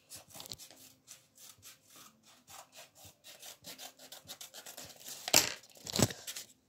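Blade or scissors cutting open a surprise toy package along its marked cut line, a rapid series of short rasping strokes followed by two louder crinkling tears near the end, close up with no speech.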